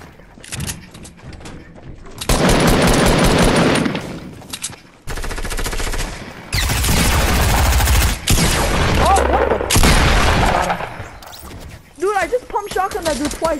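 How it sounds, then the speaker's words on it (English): Shotgun fire in the Fortnite video game comes in loud, dense bursts of gunfire mixed with booms and mechanical clatter, with players talking in between. "Shotgun that dude twice and he still didn't die."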